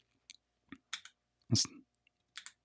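Keys on a Bluetooth macro pad are pressed in a short series of crisp, separate clicks, one louder thump in the middle, close and otherwise quiet.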